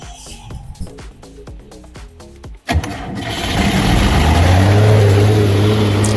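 Cummins 6BT 125 kVA generator engine cranking with rapid starter clatter, then catching and settling into a loud, steady running roar.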